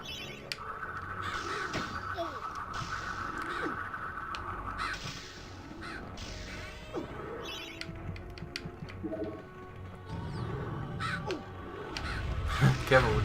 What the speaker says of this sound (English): Careful when crows attack you.